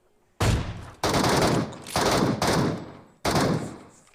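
Gunfire in the mobile battle royale game PUBG Mobile, including an AWM sniper rifle: four loud, close bursts of shooting separated by brief gaps, each sharp onset trailing off.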